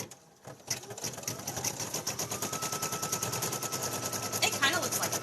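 A sewing machine stitching felt felties runs in a fast, steady rhythmic chatter after a brief quiet start, loud and close throughout.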